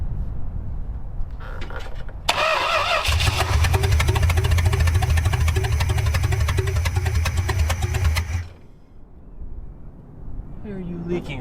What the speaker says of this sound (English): Idles a little bit. Turn that idle up some.